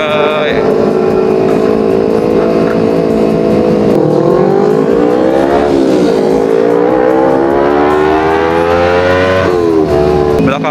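A big motorcycle roars past close by, its loud engine note rising and shifting in pitch as it revs and gears change, with a voice partly under the noise.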